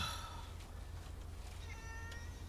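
A cat meows faintly somewhere in a room, its high, thin cries half-buried under a steady low hum and background noise.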